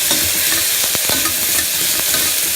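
Ginger garlic paste frying with onions in a pan, stirred steadily with a spoon; a continuous loud sizzle with a few scraping strokes of the utensil, no voices.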